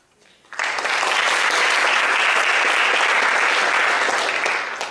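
A live audience at a haiku festival bursts into steady, dense applause after a poem and keeps clapping evenly for several seconds.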